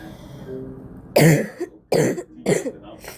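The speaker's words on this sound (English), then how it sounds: "Very sorry if you hear my coughs." Three short, harsh coughs close to the microphone, spaced roughly evenly apart, with quiet room noise in between.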